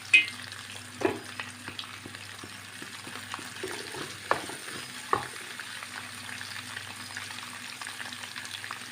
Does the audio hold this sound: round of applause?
no